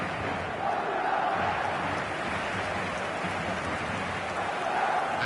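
A capacity stadium crowd at Saitama Stadium in eFootball gives off a steady, dense roar of murmuring and cheering, even and sustained throughout, heard from within the stands.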